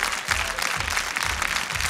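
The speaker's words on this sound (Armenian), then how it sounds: "երբ ծափահարություններ հնչեցին" An audience claps steadily at a televised talent show gala, a dense continuous wash of applause throughout, with a low rhythmic musical beat underneath.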